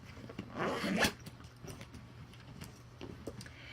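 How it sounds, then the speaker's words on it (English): A travel bag for van life is zipped shut in one quick, loud pull, followed by faint clicks and handling noises. "you just take this and you zip it up like this"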